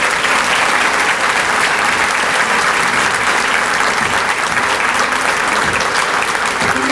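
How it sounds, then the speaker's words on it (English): Loud, dense applause from a ceremony audience honoring a group of people called up at a morning event, a steady wash of many hands clapping alone for the full stretch with no break. "Please give them a round of applause."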